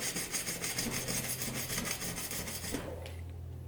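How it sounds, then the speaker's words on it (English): Steel wool or a scouring pad scrubs hard against painted tile in rapid, rhythmic, close back-and-forth rasping strokes that stop abruptly near the end. "Let's try our little bit of steel wool or our scouring pad."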